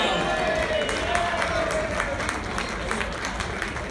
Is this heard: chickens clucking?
no